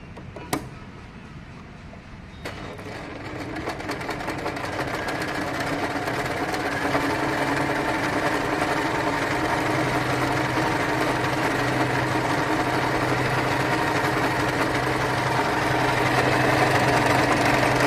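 A portable compact sewing machine stitches steadily, giving a loud, continuous mechanical whir and rapid needle rattle that starts after a couple of clicks and keeps running without talk.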